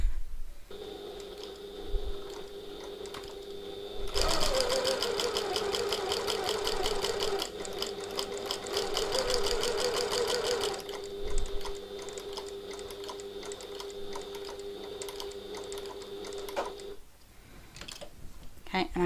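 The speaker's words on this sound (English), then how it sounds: "I'm going to sew back down that exact same line again" A domestic sewing machine stitches a line across a tote bag pocket in one steady burst of several seconds, loud and close, with its motor hum continuing before and after and a little quiet talk around it.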